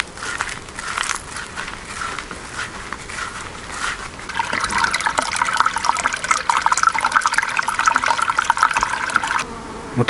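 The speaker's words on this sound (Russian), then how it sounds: "И сейчас обратным током я сделаю подлив воды в пруд." Water pumped back through a garden hose into a pond gushes and hisses in a steady stream, growing louder and fuller partway through, with no one talking.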